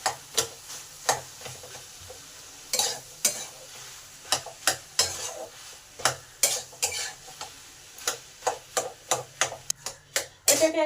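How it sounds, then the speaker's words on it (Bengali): Boiled potato is worked into beetroot and carrot in a pan for vegetable chop filling, with a spatula scraping and knocking against the pan in quick, irregular strokes over a faint dry sizzle. "এই আলুটাকে বিট আর গাজরের সঙ্গে ভালো করে মিশিয়ে নেব।"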